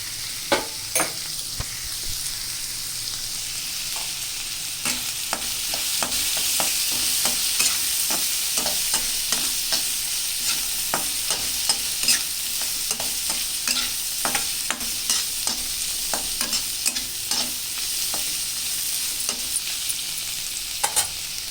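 Sliced carrots sizzle steadily in a hot pan with turmeric added, with frequent scraping stirs of a spoon or spatula through the frying.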